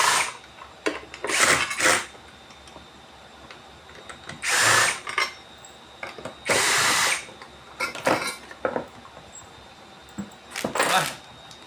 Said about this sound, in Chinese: 然后螺丝解下来